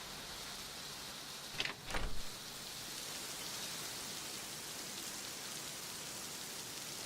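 Steady evening rain falls outdoors as a dense, even hiss that continues throughout, with a short louder patch of nearby drops or splashes near the two-second mark.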